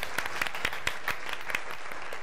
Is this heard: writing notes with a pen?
no